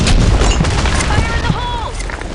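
A grenade explodes in the online shooter BlackShot, a loud booming blast over dense battle noise with gunfire, while voices shout over the din.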